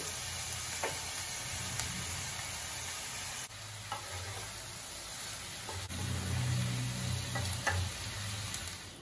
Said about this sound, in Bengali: ভাজা হয়ে গেছে পেঁয়াজ, রসুন আর টমেটো।